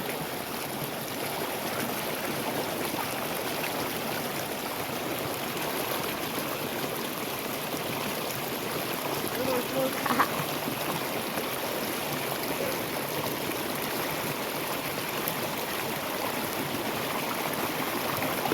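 Water flows steadily in a small channel, an even, unbroken rushing murmur that holds throughout.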